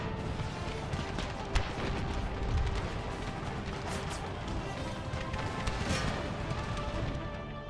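Artillery in Empire: Total War fires amid a busy battle soundscape, muffled cannon booms rolling over a dense continuous din of marching troops and distant combat.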